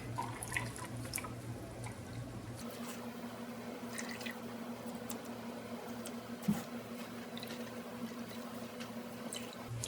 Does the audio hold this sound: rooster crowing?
no